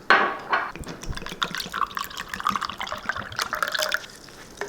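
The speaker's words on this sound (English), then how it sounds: "So we'll get a little water and put that in here." Water is poured into a container holding a tablet from an MRE ration, a continuous splashing trickle with bubbly liquid sounds, close and moderately loud, with no talking.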